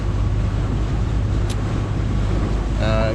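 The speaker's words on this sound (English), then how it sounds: "the wind has actually come back a little bit" Steady wind roars over a boat motor sailing at sea against the tide, with a constant low engine drone beneath it. A voice begins speaking right at the end.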